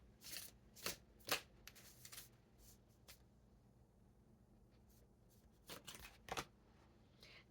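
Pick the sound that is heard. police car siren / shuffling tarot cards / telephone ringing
shuffling tarot cards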